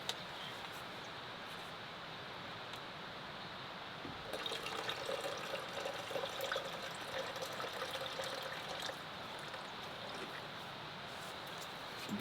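Water poured into the drawer-style reservoir of a coffee machine while camping in a car tent, a soft trickle that swells into a fuller splashing pour in the middle and then eases off, quiet and close.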